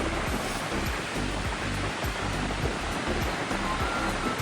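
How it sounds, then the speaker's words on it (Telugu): Niagara Falls gives off a continuous, dense roar of crashing water that is loud and unbroken, with no voices. "This is Niagara falls guys."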